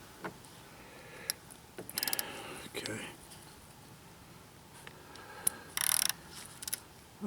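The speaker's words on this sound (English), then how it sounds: "So I got my socket right here. Go ahead and loosen this." A socket wrench loosens the radiator drain plug on a 2000-2007 Ford Taurus, giving a few short, quiet bursts of ratcheting clicks with pauses between them.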